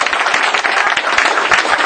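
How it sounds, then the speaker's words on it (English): Party audience applauding for the evening's preparers, a dense, steady wash of many hands clapping close and loud throughout, with no voices standing out above it. "I want a round of applause for the preparers for this party tonight,"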